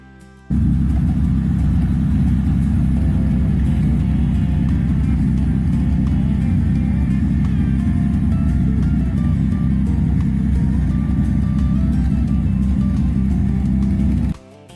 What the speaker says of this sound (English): with glass pack mufflers, giving it a distinctive rumble